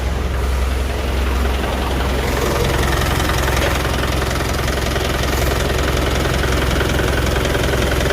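A freshly overhauled engine idles close by with a steady, loud, rough mechanical drone and a faint knocking rattle, running continuously without a pause and with no talking.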